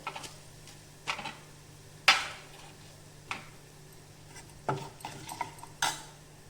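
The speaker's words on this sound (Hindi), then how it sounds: "इस तरह से हिलाते हुए लगातार भूनेंगे" A spoon stirs and scrapes chana dal sabji as it roasts in a pan. Sharp clinks and scrapes come at irregular intervals over a quiet low background.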